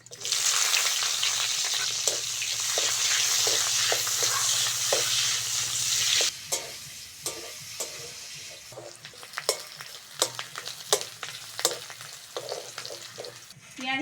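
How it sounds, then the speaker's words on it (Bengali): Chopped onions and whole cumin seeds fry in hot oil, first as a dense, loud sizzle, then as a quieter crackle broken by repeated sharp clicks of a spatula stirring against the pan. No one speaks. "তেলের মধ্যে গোটা জিরে ফোড়ন দিয়ে দেবো এবার দেবো কুচুনো পেঁয়াজ"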